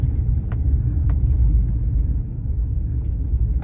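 A 2002 Toyota RAV4 EV climbs a hill, giving a steady low road rumble and tyre noise from inside the cabin with a few faint ticks and no engine note.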